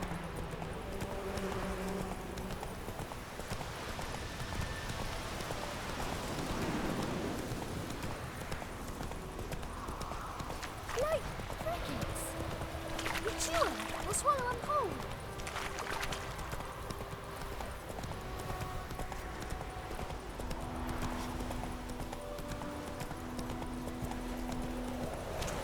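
Hooves of Roach, the horse in The Witcher 3 video game, clip-clopping steadily at a gallop throughout, moderately close, with an occasional whinny and faint game sounds around them.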